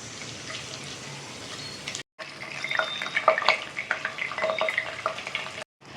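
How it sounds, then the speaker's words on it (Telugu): Curry leaves and green chillies frying in oil for a chicken fry, a steady soft hiss with louder crackling bursts in the middle, close and alone with no talking. "ఇప్పుడు ముందుగా కొద్దిగా కరివేపాకు, పచ్చిమిర్చిని ఆయిల్లో అయితే ఫ్రై చేసుకుందాము."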